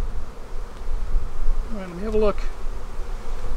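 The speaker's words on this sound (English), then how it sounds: "Oh, I've got the bees all over my arms though." Honeybees swarm around an open hive during a spring inspection, a close, steady buzz with one bee droning loudly past, while a person speaks briefly.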